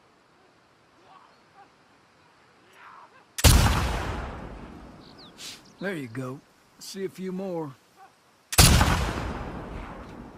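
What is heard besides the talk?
sniper rifle shots in the video game The Last of Us Part II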